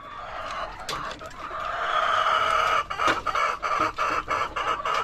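Rhode Island chickens cluck repeatedly and fairly close, in short irregular bursts over a busy farmyard background with occasional louder squawks.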